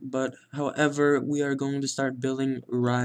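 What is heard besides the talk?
No distinct noise like a dog, phone or traffic.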